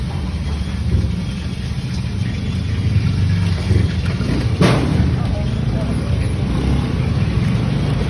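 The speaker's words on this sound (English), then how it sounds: "lots of cars on this road" Heavy road traffic rumbles continuously through a busy street in Manila, with many cars and engines passing nearby, a steady low roar and a brief louder whoosh midway. Voices can be heard over it.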